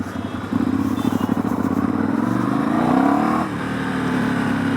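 A Ducati motorcycle engine runs close and loud while riding, a rapid throbbing idle building into a rising rev before it eases back to a steady drone.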